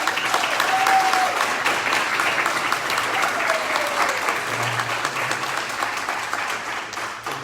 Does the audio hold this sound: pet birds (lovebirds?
no